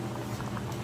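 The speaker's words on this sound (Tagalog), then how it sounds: "Kumukulo na." Water bubbles and rumbles at a rolling boil in a pot for cooking rice, a steady low churning with faint popping, heard up close and alone.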